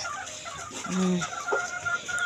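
Chickens cluck softly nearby, a few short low clucks over a faint farmyard background with no talking.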